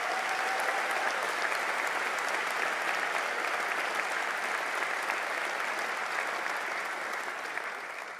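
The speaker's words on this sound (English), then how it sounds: "a big round of applause" Sustained applause from a hall full of graduates and families at a Liverpool university graduation ceremony, dense and steady for several seconds before easing slightly at the end.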